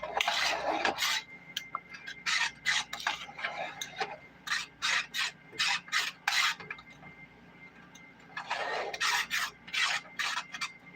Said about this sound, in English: with the whisk, stirring it with the whisk didn't really help that much